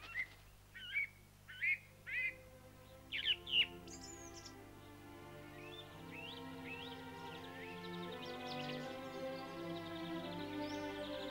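A blackbird in New Zealand sings a series of clear, fluting whistled phrases. They come near and distinct at first, then carry on as softer, more continuous warbling over a faint steady hum.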